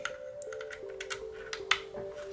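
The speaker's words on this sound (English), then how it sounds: "Let's try typing." Typing on a Moonlander split keyboard: a quick, irregular run of light key clicks, close and fairly quiet over a steady faint electrical hum, with no voices.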